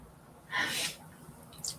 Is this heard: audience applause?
no